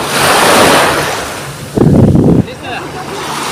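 Big ocean waves break and roar on a beach, with gusts of wind buffeting the microphone. A brief voice cuts in midway over the surf.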